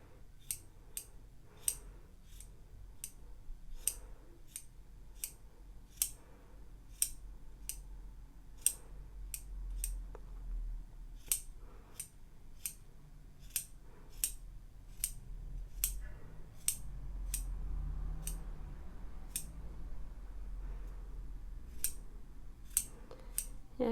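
Scissors snip repeatedly while trimming a crochet yarn pompom: crisp, quiet cuts arrive at a fairly regular pace of about one per second, close by, over a faint low background.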